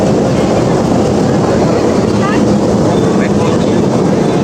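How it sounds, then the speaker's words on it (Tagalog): A train rumbles past a crowded market in Baclaran, a loud, steady wash of broadband noise that holds unbroken from start to finish, with market bustle mixed in. "maingay lang kasi dumadaan yung train"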